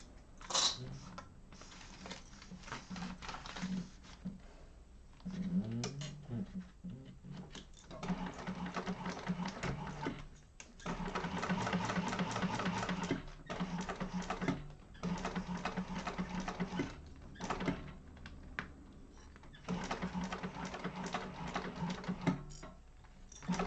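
A sewing machine bastes a fabric panel for a sling in a sewing class, running in steady whirring bursts with brief pauses between stitching runs, close and moderately loud.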